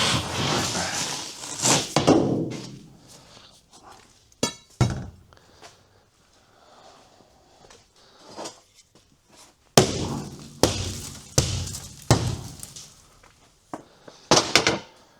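Hammer blows on a car windshield while stripping a car for a spring demolition derby in Schomberg, Ontario: loud, sharp impacts with cracking and crunching glass, coming in irregular clusters separated by quieter pauses.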